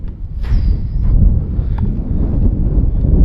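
Strong wind buffets the microphone out on a golf course, a steady loud low rumble filling the whole stretch with no speech over it.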